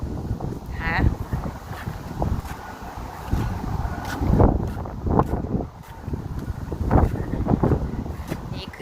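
Strong wind buffets the microphone outdoors around a house during a Canadian summer, in loud gusting rumbles that rise and fall throughout, with someone talking over it.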